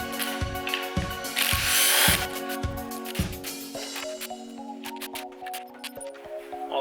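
Ratchet clicking rapidly while loosening bolts on an engine oil pan during a 2018 shortblock build, a close metallic pawl rattle in repeated bursts with clinks of sockets and bolts, alone without talk.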